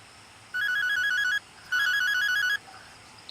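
A mobile phone ringtone plays for an incoming call: two bright electronic melodic bursts, each about a second long, separated by a short pause in a quiet room.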